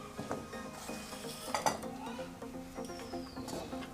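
Date palm jaggery melts in a metal pot under a spoon, with repeated clinks and scrapes of utensil on pot, a faint sizzle underneath and irregular rhythm, fairly quiet and close.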